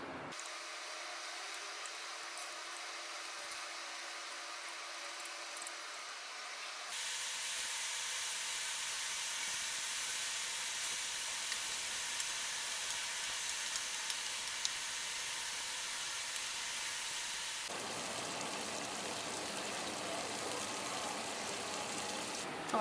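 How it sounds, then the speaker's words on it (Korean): A steady, bright sizzling hiss of glutinous rice doughnuts filled with red bean paste deep-frying in hot oil, constant throughout with no talking. "이제 기름에다가 튀겨줄게요."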